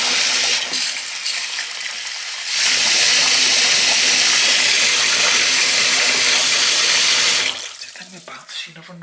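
Water gushes loudly from a tap into a bath in a steady hiss that swells after a couple of seconds, then cuts off near the end, leaving faint splashes and small knocks.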